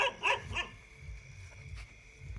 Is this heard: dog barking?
yes